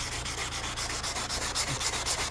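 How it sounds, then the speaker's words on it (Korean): A car headlight lens is hand-sanded with 220 grit sandpaper in steady back-and-forth strokes, a continuous rhythmic scratchy rubbing close up with no talking. "이제 조수석 쪽 이제 1차 샌딩 220방으로 1차 샌딩"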